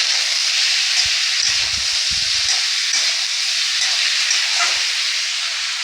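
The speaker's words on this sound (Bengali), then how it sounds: "এইটুকু হলুদ দিয়ে এবার আমি ভালো করে নাড়াচাড়া দিয়ে একটু সাঁতরিয়ে নেবো" Potato and eggplant sauté with turmeric in a pan, a loud steady sizzle and hiss throughout, with a few soft low knocks of stirring near the start.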